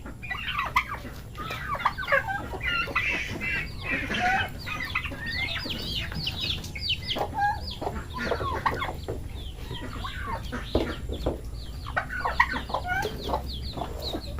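Young turkey chicks calling nonstop, a dense flock of high peeping and chirping cheeps close by, steady throughout with light background noise and no talk.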